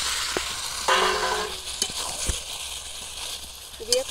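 Fried potatoes added to chicken curry sizzle and crackle in a pan, a steady frying hiss with clinks and stirring bumps, with talking partly mixed in.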